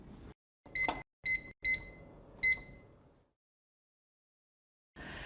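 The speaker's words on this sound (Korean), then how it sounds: "요리사님이 타이머를 3분으로 맞춰줄래요?" A kitchen timer is set to three minutes for boiling ramen, giving four short, bright electronic beeps in an uneven rhythm, close and clear, followed by silence and then a faint rustle.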